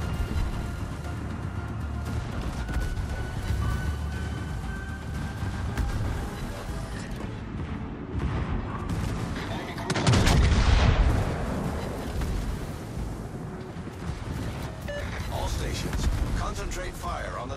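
Naval gunfire rumbles through a World of Warships battle aboard the Prinz Heinrich, a dense layer of booms and crackling shots that peaks in one heavy blast partway through and then continues at a steady roar.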